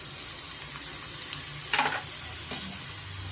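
Mushrooms and green chilli fry in butter in a pan, a quiet steady sizzle broken by a few soft scraping stirs.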